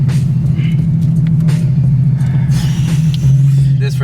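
A Nissan 370Z with a loud aftermarket exhaust idles with a deep, steady rumble that swells slightly near the end, heard up close and continuous throughout.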